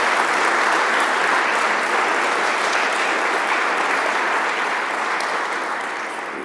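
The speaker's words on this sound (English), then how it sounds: "Let's give a round of applause to Monique and Father Dan." Loud, full applause from an audience at a law school roundtable, a continuous dense roar of clapping that holds steady and then begins to taper toward the end.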